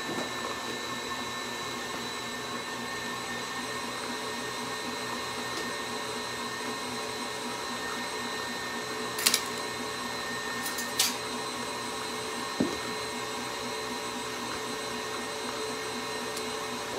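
An electric mixer whips frosting for a chocolate depression cake, a steady droning whine held at an even level throughout, broken by a few brief clicks and knocks against the bowl.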